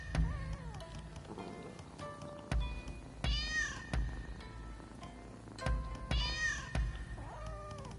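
Cats meow in the video game Rise of Ronin, with several rising and falling meows spread across the stretch against a soft background patter and a few sharp clicks.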